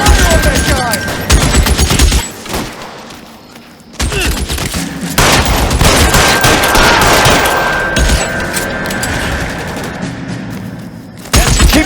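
Gunfire in the video game L.A. Noire: loud rapid bursts of shots in a sustained firefight, with a brief lull before the volleys resume, thuds mixed in and shouted voices.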